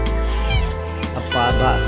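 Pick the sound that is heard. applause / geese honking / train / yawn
geese honking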